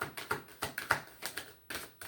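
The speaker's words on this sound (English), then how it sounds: "I'm sorry if this is loud, the shuffling" Tarot cards are shuffled up close in a quiet room, a quick run of soft, uneven taps and riffling clicks.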